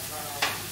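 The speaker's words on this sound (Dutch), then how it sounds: "Hier zit dus gehakt in, ui, paprika. Dus dit is eventjes aan het bakken." Minced meat with onion and bell pepper fries in a pan, a constant soft sizzle broken midway by one brief scraping stir.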